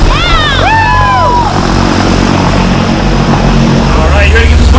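A skydiving plane's engine and propeller drone loudly and steadily, close up and filling the sound, with excited voices cheering over it.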